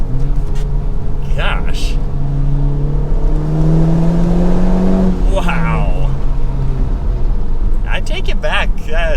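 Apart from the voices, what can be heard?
2019 Honda Civic Type-R accelerating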